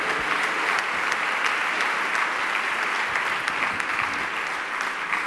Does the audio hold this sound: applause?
yes